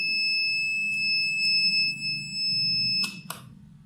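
A flame-alarm buzzer on a smart home kit sounds continuously as a piercing high tone over a low hum, ending with a couple of sharper beeps.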